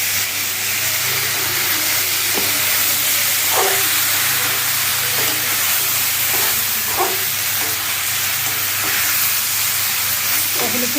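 Fish curry frying and sizzling in a pan as it is cooked down, a steady close hiss with soft stirring scrapes now and then, no talking.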